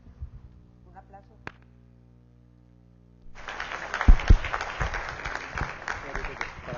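Audience at a Peruvian climate and low-emissions development conference breaking into applause after a quiet stretch with brief talk, a full wash of clapping that swells and holds steadily.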